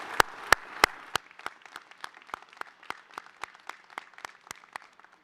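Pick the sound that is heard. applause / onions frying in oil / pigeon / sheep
applause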